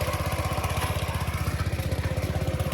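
A small single-cylinder walk-behind tractor engine chugs steadily under load pulling a chisel plough, with a loud, close, rapid pulsing rhythm and no voices.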